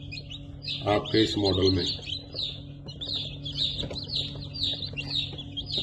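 Newly hatched fighting-rooster chicks on their first day peep in a rapid, repeated chirping chorus from close by, continuing under and after a man's brief speech.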